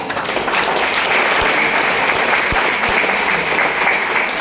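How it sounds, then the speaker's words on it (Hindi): Loud, dense audience applause for a guru at a business gathering, many hands clapping continuously and close, with a few sharp low thumps scattered through it. "तो गुरुजी के लिए एक जोरदार तालियां।"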